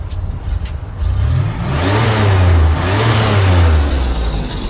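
The turbocharged engine of a 1987 Buick Grand National revs up twice, rising in pitch with a whooshing turbo whine, loud and close, with no talking.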